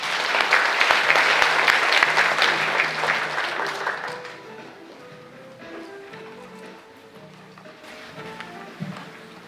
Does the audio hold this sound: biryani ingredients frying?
no